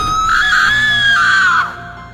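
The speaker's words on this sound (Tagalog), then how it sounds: "May kumalampag, tapos may sumigaw." A single loud, high scream rises and holds for well over a second before cutting off abruptly, heard alone and close in an old house.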